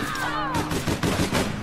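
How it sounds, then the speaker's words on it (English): A fully automatic weapon fires rapid bursts in the online game APB Reloaded, sharp repeated cracks over a few seconds, with a brief whistling tone at the start. "Fully automatic weapon that hits you from that range"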